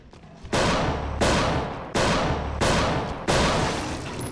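Magnum revolver gunshots in a Resident Evil 4 mod, five loud, evenly spaced blasts about 0.7 seconds apart, each with a long ringing decay, with no talk in between.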